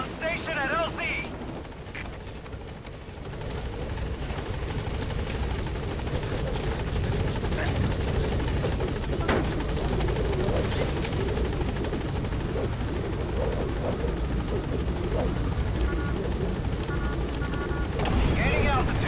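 Helicopter Pequod arriving in the video game Metal Gear Solid V, a steady loud rotor thrum lasting throughout with brief game effects layered over it.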